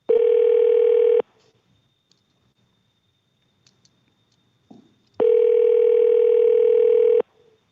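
A steady telephone dial tone sounds loud and close for about a second, then cuts off. After a quiet gap with faint clicks, a second long tone follows as an outgoing call is placed from a courtroom.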